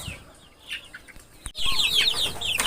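Morning flock of farmyard chickens clucking nearby, with soft scattered calls that grow busier and louder in the second half, with no talk.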